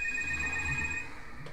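A telephone ringing in a room, a steady high electronic ringtone tone held for about a second and then stopping, faint against low background hum.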